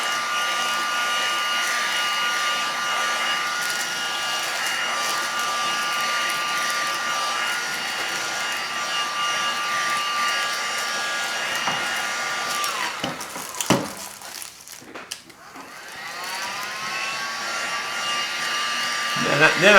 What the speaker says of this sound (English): Then I take the heat gun and I first just heat the edges